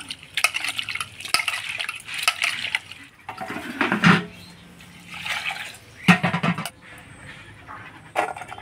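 Dried shrimp being washed by hand in a bowl of water, with irregular bursts of splashing and swishing alongside light clinks of the container.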